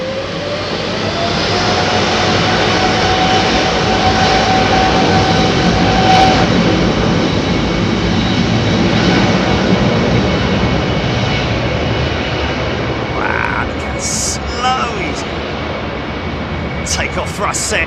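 Big jet airliner engines, including Trent 7000s, spool up to takeoff thrust at Heathrow Airport, a loud sustained roar with a rising whine, heard close with someone talking over it.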